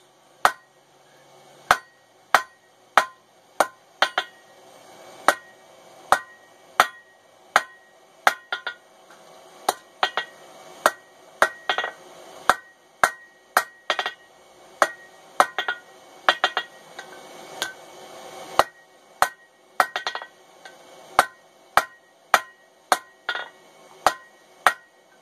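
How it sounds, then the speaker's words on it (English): A blacksmith's hammer strikes hot steel while forging chain-making tongs, giving dozens of sharp ringing blows in irregular bursts and steady runs, close and clear, with brief pauses between groups. "Mark with your hammer."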